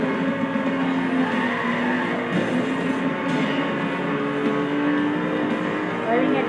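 A car in Need for Speed on Xbox 360 brakes into a tire-squealing skid, the engine droning loud and continuous, with talk over it.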